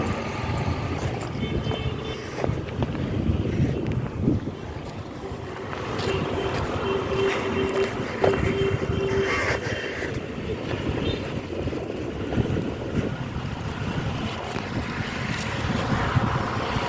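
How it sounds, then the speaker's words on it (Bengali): Wind gusting over the Karnaphuli river at Kaptai, Rangamati, a steady rough rumble and buffeting across the microphone, with faint distant engine-like droning underneath and no voices. "একটু একটু বাতাসও আছে"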